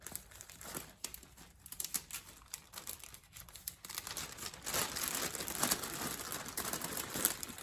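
A teddy-bear towel is pushed into a clear plastic bag, producing soft, irregular crinkling and rustling close by that grows louder and denser in the second half.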